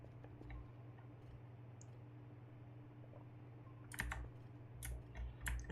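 Quiet, scattered clicks of typing on a clicky computer keyboard, a few isolated keystrokes then a short burst of clacks near the end, over a low steady hum.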